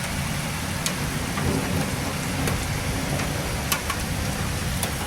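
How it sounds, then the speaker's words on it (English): Heavy rain pours steadily during a severe thunderstorm with flash flooding, a dense continuous wash of noise with a few sharp cracks and possible low rumbles of thunder mixed in. "And the thunder's getting very, very roaring"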